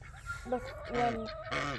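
Several loud, nasal goose honks in quick succession, close by, with a faint murmur of other birds in the background.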